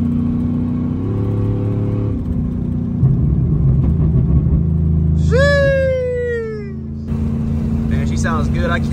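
A pickup truck engine idles with a low rumble, then blips up in a sharp rev that climbs and falls off before settling back to idle, close by, with a voice talking over parts of it.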